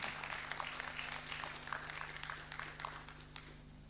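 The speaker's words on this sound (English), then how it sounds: "Let's give a clap of hand." Audience applause at an award presentation during an intellectual festival, a sustained patter of many hands clapping at moderate volume, tapering slightly toward the end.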